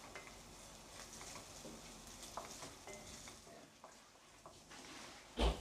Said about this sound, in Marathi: आता त्याच्यामध्ये मी अद्रक जे किसून घेतलं होतं ते घालून घेते आणि आपण हलकंसं परतून घेऊया